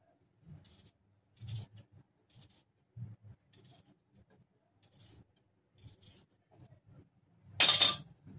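Onion sliced with a knife into long, thick strips for sambar, giving a series of soft, separate chopping taps on a board, then one louder, sharper clatter near the end.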